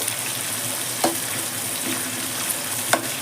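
Thinly sliced green chillies fry in a pan for ragi-jowar upma, giving a continuous close sizzle with a few faint stirring clicks and no talking.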